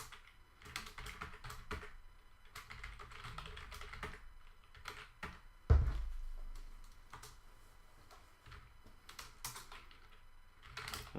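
Typing a command into a terminal on a computer keyboard during web coding work: bursts of quick, light key clicks, near and fairly quiet, with one louder thump midway and pauses between bursts.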